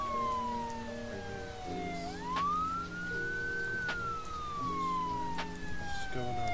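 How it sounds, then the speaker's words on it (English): A video game police siren wails, rising and falling over layered electronic music, with brief sharp tones cutting through, all fairly loud and steady throughout. "Turn down my sirens."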